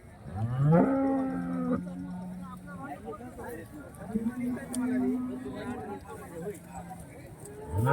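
Holstein Friesian cows low loudly nearby at a cattle market, several drawn-out moos over the murmur and voices of a busy crowd, with another moo starting at the end.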